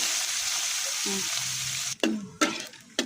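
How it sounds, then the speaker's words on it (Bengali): Small fish sizzle steadily in hot oil in a wok, a loud continuous frying hiss broken by a few sharp clanks and scrapes of stirring near the end. "এখন আমি মাছ দিয়ে দিলাম, মাছটা ভাজা হবে।"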